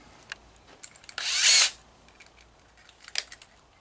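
A power drill with a number 10 countersink bit bores into porch swing wood in one short whirring burst of about half a second, amid faint clicks and handling noise.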